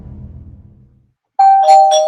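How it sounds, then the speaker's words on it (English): A two-tone doorbell chime rings out clearly after a brief low rumble fades into silence, bright and close. "Doorbell."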